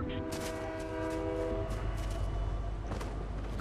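A train in a video game rumbles loud and steady with its horn blaring in sustained tones, ending with a brief whistle-like burst near the end.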